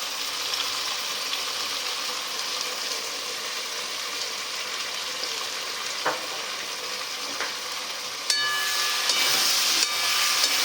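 Soy sauce goes into a hot pan of spice masala for chilli paneer kofta. A constant loud sizzle and hiss continues with a few faint knocks, then a sudden surge in the sizzle near the end.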